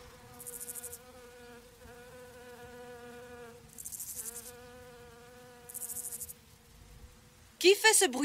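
A fly buzzes close by in a steady drone, rising into a few brief louder bursts, before a sudden loud rustle at the end.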